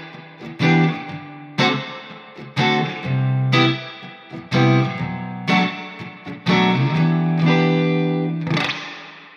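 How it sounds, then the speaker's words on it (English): Spring reverb from a reverb pedal on an electric guitar: a series of distinct struck chords, each ringing out with a bright, bouncy tail, about seven separate hits spaced a second or so apart, played alone. "the first one is the spring reverb."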